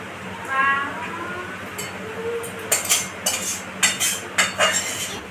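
Metal utensils clink and scrape against a wok as steamed hilsa fish is lifted out, first soft stirring and a light sizzle, then a run of sharp, close clinks in quick bursts.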